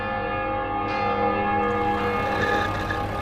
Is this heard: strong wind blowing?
no